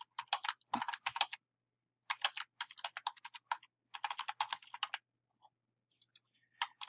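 Quick bursts of clicky typing on a computer keyboard, close and clear, come in several runs separated by short pauses, with only a few stray keystrokes toward the end.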